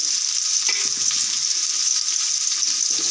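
Continuous frying sizzle as tomatoes with turmeric are sautéed for South Indian khichdi, loud and close, with occasional soft stirring sounds and no talking.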